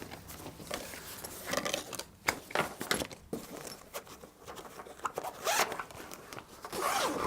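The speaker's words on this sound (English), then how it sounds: "Zippers work nicely." Zippers on a OnePlus Explorer backpack are pulled open and shut several times, a close, scratchy rasp in short bursts with brief pauses, alone without talk.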